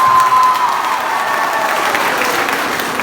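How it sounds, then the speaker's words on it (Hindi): Loud, dense applause with some cheering from a college audience, a steady wash of clapping that holds strong across the whole stretch. "ताली बजाओ जोरदार।"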